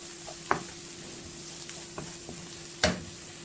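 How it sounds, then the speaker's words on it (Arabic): Minced garlic fries in a pan, a soft steady sizzle broken by a few sharp scrapes and clinks of stirring, close and fairly quiet. "هبتدي احط الثوم المفروم واقلبه لحد لما لونه يبقى ذهبي"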